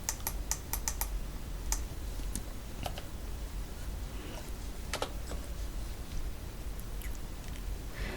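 Computer keyboard keys pressed to enter an Alt plus Delete fill shortcut in Photoshop CC 2021, giving scattered, crisp clicks in small bursts over a quiet background with no voices.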